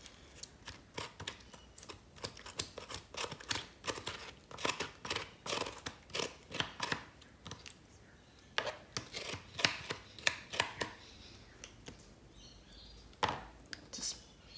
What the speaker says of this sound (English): sort of smash the gel a bit like this and then just remove and scrape it from the skin